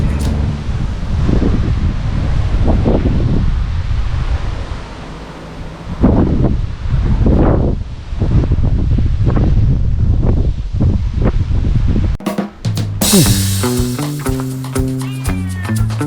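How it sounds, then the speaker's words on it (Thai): Strong, cool wind blowing hard against the microphone on an elevated mountain road, a steady roaring rush that swells and gusts, with a voice speaking over it and a brief burst of music near the end. "ลมแรงมากเลย ลมเย็นลมแรง"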